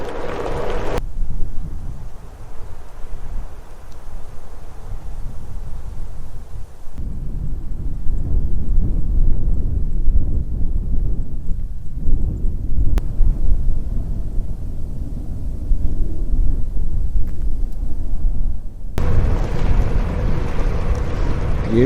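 Wind rushes past a cyclist riding a road near Coonamble in eastern Australia, a heavy continuous low buffeting roar that surges and drops in gusts across the whole stretch.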